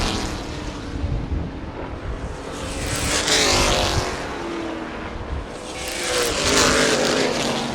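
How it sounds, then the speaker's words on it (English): Race cars roar past in two loud swells at a short-track race, engines droning and fading, with a rough, uneven tone to the passing engine. "The 2 car did not sound good when it went past me."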